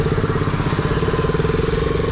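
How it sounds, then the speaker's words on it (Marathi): A motorcycle engine thrums steadily and close, a loud continuous pulsing rumble as the bike rides along Malshej Ghat in the monsoon. "चला आता खऱ्या अर्थाने बाईक राईड चालू झालेली आहे आपली जबरदस्त अशी"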